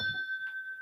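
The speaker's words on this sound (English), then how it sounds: "Let me hit the bell" A bell struck once, a faint, thin ringing tone that sustains and slowly decays, with a soft thump at the start.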